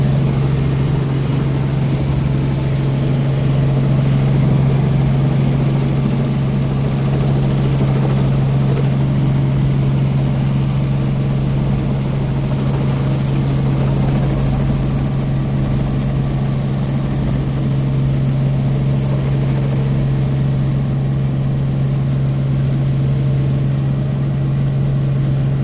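Steady, loud engine drone with a strong low hum that holds evenly throughout, as a helicopter powers up and lifts off from Tokyo Heliport.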